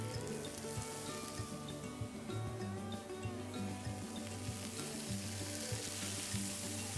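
Fish fillets frying in a hot pan, a faint, steady hiss beneath a low background hum, continuous and fairly quiet with no voices.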